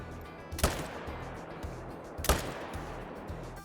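Two sharp hunting-rifle shots ring out in theHunter: Call of the Wild, spaced under two seconds apart, each a crisp crack followed by a short rolling echo over quiet outdoor ambience.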